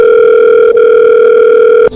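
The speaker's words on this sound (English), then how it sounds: "Please state your name after the tone, and Google Voice will try to connect you." A Google Voice call-screening tone plays over a phone line, a loud, steady electronic tone held for about two seconds with a brief dip partway through and a cutoff at the end, with no voices.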